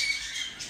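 Pet birds in a farm aviary squawk in brief, shrill calls, moderately near and loud throughout, with no talking.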